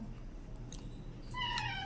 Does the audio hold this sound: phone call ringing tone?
no